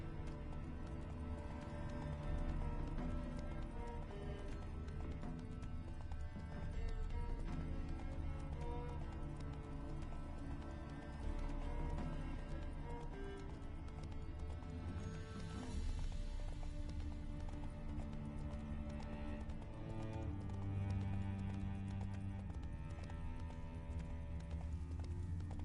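Roach, the horse in The Witcher 3 video game, gallops with steady rhythmic hoofbeats over a continuous game music score, with occasional whinnies and no talking.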